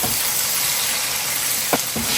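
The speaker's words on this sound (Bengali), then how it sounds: "আর একটু পেঁয়াজটা ভাজা হবে" Onions frying in a pan give a steady, close sizzling hiss that holds even throughout, with a couple of soft clicks near the end.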